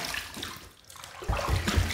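Water runs from a tap into a bathroom sink as a face is rinsed after shaving, a close, steady splashing that dips briefly and then surges back louder.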